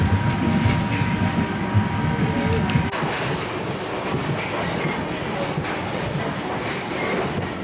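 An overnight train from Hanoi to Saigon rolls steadily along the rails with a continuous rumble, rhythmic clatter and faint metallic squeals, heard from inside the carriage.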